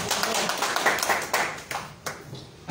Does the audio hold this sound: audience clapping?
yes